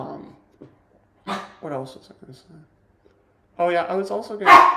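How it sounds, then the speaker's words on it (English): A pet dog barks nearby indoors, a couple of loud sharp barks breaking in at the end while someone talks. "Oh, that's my dog."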